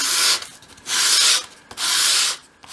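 Three long, rough sweeps of sandpaper bevel the edge of a small wooden piece for a 1/12th scale dolls house desk. The strokes are close and loud, separated by brief pauses.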